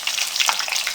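Puri frying in hot oil as ghee is spooned over it to puff it up, a bright, crackling sizzle that is close and fairly loud, steady for about a second without talk.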